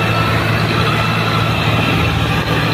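Swaraj 855 and Mahindra 585 tractors race with engines running hard, a steady loud diesel drone and low rumble with no pauses.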